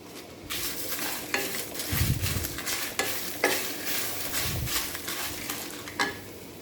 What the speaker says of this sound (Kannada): ಇದು ಸ್ವಲ್ಪ ನಿಧಾನ, ಕರಟಬಾರ್ದು, ನಿಧಾನ ಬೆಂಕಿಲೇ ಹುರಿಬೇಕು.